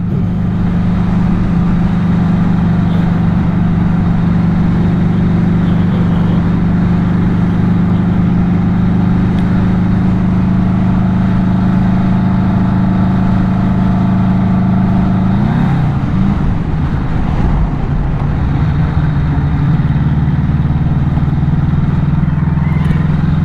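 Vintage British Matchless Silver Hawk motorcycle on the road, its engine droning steadily and loud up close, with a brief shift in pitch partway through as the revs change.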